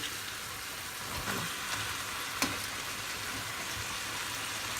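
Garlic ginger paste frying in a pan for crab curry, a steady close sizzle with a couple of soft scrapes from stirring.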